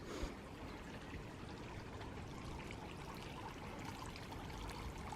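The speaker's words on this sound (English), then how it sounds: "Water fountain's going." A garden water fountain runs with a soft, steady splashing trickle, faint and continuous throughout with no voices.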